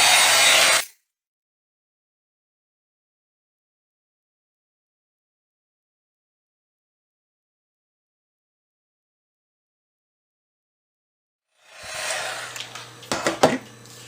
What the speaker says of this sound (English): I'm going to go ahead and heat set it just so that when I stamp it's going to stay nicely